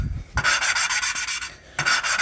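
An engine valve is lapped into its seat on a Kohler/Onan flathead engine, giving a harsh, steady gritty rasping in close strokes with a brief pause before the grinding resumes.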